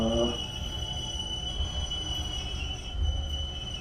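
A Tobu Urban Park Line express train slows to a stop with a steady, faint high squeal over low rumbling running noise.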